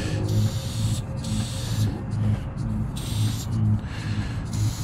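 Orange spray paint hisses from an aerosol can in repeated short bursts, each lasting about half a second with brief pauses between them, as graffiti is sprayed close up.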